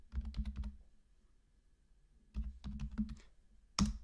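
Typing on a computer keyboard: two short bursts of quick, close key clicks with a quiet gap between, ending in a single sharper keystroke.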